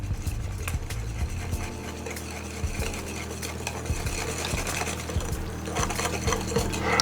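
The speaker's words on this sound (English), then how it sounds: "So I'm going to start whisking and then I'm going to add the coffee slowly." A whisk beats eggs in a bowl for chocolate cake batter, a steady busy scraping and clinking of metal against the bowl running throughout, close and moderately loud, with no talking.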